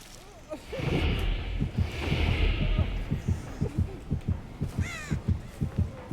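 A crow in the video game Dead by Daylight gives a few brief caws that sit over a loud, steady, rhythmic heartbeat thumping and a droning hum.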